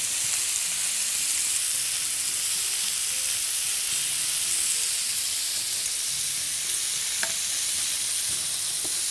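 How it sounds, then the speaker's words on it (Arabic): Shish tawook chicken fries in a little oil in a pan, giving a steady, dense sizzle and hiss that continues without a break. "بس اول حاجة خليني اقلب الشيش الطاووق ده قلبة قبل ما نبتدي نشتغل في البرجر بتاعنا."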